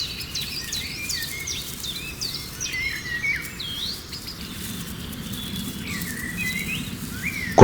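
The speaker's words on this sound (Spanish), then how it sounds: "los primeros insectos del día se mezclan con el canto de los pájaros que resuena en la estepa" Birds singing in the morning steppe with insects, repeated chirps and short whistled phrases over a constant dense buzz of insects, moderately loud and continuous.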